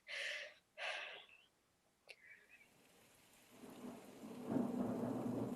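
A thunderstorm with rain: a few sharp gusty bursts and a brief crack early on, then a steady rising hiss of rain and low rumbling thunder building toward the end, at moderate level with no voices.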